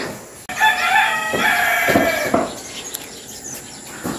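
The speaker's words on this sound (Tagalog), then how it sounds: "nanggigising na po ang mga manok" A rooster crows loudly nearby, one long drawn-out cock-a-doodle-doo with strong harmonics, followed by a few quieter clucks and soft background noise.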